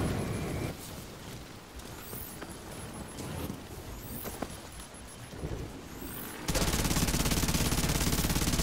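Rapid automatic gunfire in The Division 2 shooter game, a dense stream of shots at fairly steady loudness that shifts into a harsher, louder burst near the end.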